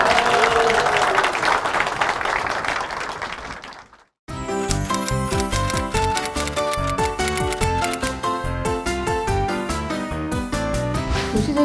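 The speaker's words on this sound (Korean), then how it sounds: "여러분 그럼 큰 박수 부탁드립니다." An audience at a televised architecture lecture on space upcycling applauds, a dense wash of clapping that fades out, then after a brief silence loud rhythmic music takes over.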